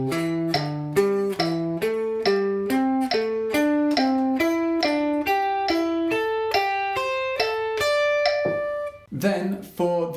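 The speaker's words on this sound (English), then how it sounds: "If I do that with the click at 70, it sounds like this, as 8th notes." Electric guitar plays a pentatonic skip exercise as steady eighth notes over a metronome click at 70, each note cleanly picked in an even ascending-then-descending pattern, ending with a couple of looser strums.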